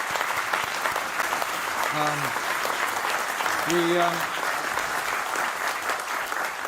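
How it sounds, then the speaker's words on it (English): Steady audience applause fills a speech event in London, dense clapping throughout, with brief voice-like tones under it. "let's give you a round of applause"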